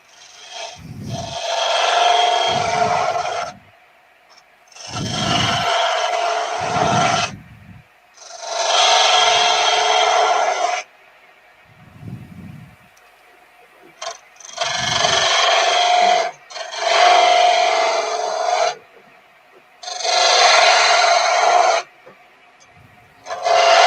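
A freshly sharpened blade shaves wood in repeated strokes, each a loud, rasping scrape lasting a couple of seconds, with brief pauses and soft knocks between strokes.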